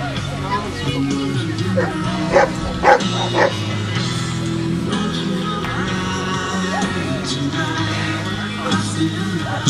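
Service dogs bark loudly during a training demonstration, sharp repeated barks and yips rising over a murmuring crowd and nearby talk.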